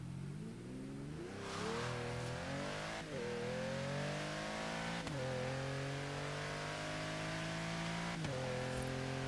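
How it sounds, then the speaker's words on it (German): Mercedes G-Class AMG with a V12 accelerating hard in the racing game Forza Horizon 3, its loud engine note climbing repeatedly in pitch and dropping at each gear change, continuous and close with no talking. "So, kurz Beschleunigungstest machen."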